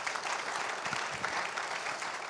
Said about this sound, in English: give me everyone a round of applause for their efforts in actually driving this result.